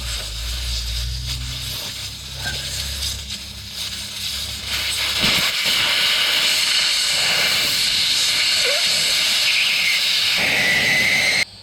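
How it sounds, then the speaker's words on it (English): Air hisses out of an open valve on a motorcycle's tubed tyre, a loud, continuous close-up rush that strengthens midway and runs on before cutting off abruptly, with no voices. "Right, that's all the air out the tyre."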